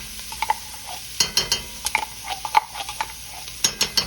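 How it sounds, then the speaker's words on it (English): A spoon stirs tomato paste into a pot of braised beef pot roast, scraping and tapping against the pot in quick irregular strokes over a soft background sizzle, up close. "Now I'm gonna put some tomato paste in here."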